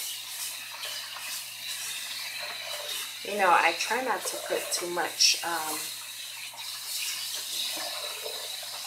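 Running water from a tap flows steadily in the background while someone talks over it.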